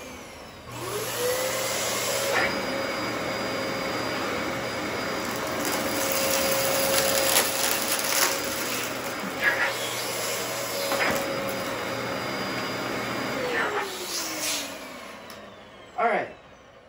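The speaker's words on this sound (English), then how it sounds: "Okay, next the DC14." A Dyson DC14 vacuum cleaner runs with a steady loud motor whine that rises at switch-on and winds down near the end, with scattered handling knocks along the way.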